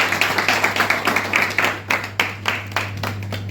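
Audience at a Togo workshop opening ceremony applauding the coalition president, a short burst of rhythmic clapping with distinct individual claps, fairly close and over a low steady hum.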